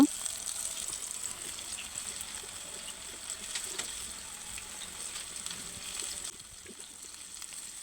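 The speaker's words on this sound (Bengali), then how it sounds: "আমি এখন তেলে দিয়ে দেব তেলটা অবশ্যই গরম হতে হবে ঠান্ডা তেলে দেবেন না গরম গরম তেলেই দেবেন" Chicken pieces sizzle steadily in hot oil in a pan, a continuous bubbling crackle with occasional small pops, fairly close and even throughout.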